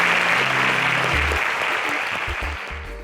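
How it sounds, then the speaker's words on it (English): An audience at a televised business pitch competition in Nigeria breaks into sustained applause, loud and dense at first, then gradually tapering off toward the end. "Please a round of applause for them."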